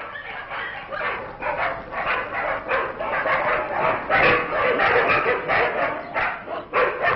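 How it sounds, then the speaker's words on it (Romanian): Stray dogs bark in a busy run of sharp, overlapping yaps and barks with brief whimpers, close and loud, continuing almost without pause. "Câinii latră, copiii învață."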